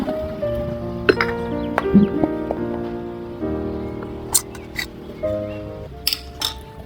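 Small metal clinks and taps from a miniature pot as cooked rice is served in a tiny kitchen, with light scattered clatter and soft background music throughout, no talk.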